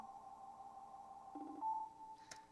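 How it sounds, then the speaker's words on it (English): A sine wave synth note with light bit crushing and Ableton time stretching sounds as a quiet, steady electronic tone that warbles and shifts partway through, ending with a brief buzzy burst. "again, just a sine wave. It's got a little bit of bit crushing on it."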